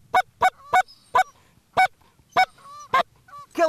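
Geese honk repeatedly at close range during a goose hunt, loud sharp calls in an uneven rhythm with a few fainter honks between them.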